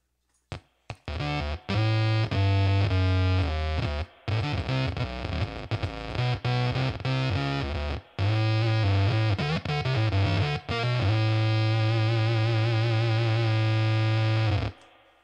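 An EarthQuaker Devices Bit Commander guitar synth pedal gives a heavily effected, distorted guitar tone with a deep sub-bass low end, playing sustained notes and short phrases, loud and alone, with brief gaps.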